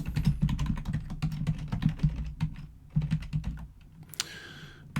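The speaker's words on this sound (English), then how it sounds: "I'm going to type in some values here." Rapid, uneven clatter of keys being typed on a computer keyboard, close and crisp, with short pauses between bursts and a brief scraping noise at the end; no voices.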